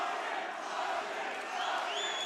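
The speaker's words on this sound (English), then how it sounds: "Crowd chanting his name." A crowd at a CFFC mixed martial arts event chants a fighter's name, a loud, sustained mass of voices with rising shouts toward the end.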